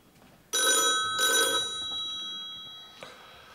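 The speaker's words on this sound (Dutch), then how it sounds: "Telefoon," A telephone rings at a hotel reception, two loud bell rings close by, with the second ring fading out before a faint click.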